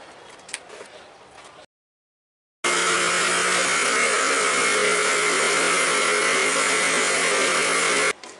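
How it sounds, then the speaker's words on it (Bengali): Electric blender running steadily and loudly, blending a beetroot smoothie with yogurt and sugar into a lassi, after a short gap of silence and some faint kitchen noise at the start. "এটাকে আমি ভালো করে ব্লেন্ড করে, যাতে দইটা মানে বিটটা এর সাথে মিশে যায় সেইভাবে আমি ব্লেন্ড করে নেব"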